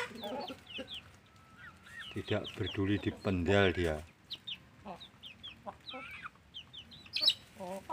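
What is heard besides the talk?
chickens clucking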